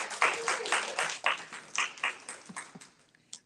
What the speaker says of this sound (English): If we could also have a round of applause for Andrew that's up in the sound booth, helping us through everything.